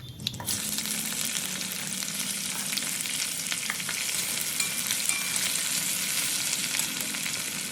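Whole cumin, bay leaf, cardamom and cinnamon sizzle steadily in hot oil, a dense continuous frying hiss with occasional stirring scrapes, loud and close throughout with no voices.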